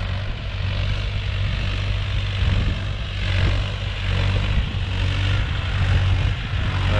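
A John Deere 5080R tractor engine labours steadily while pulling through a wet, rain-soaked field, a loud continuous low drone with a constant hum and no pauses.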